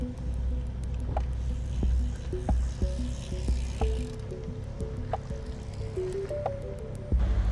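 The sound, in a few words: refilling water bottle during bicycle brevet stop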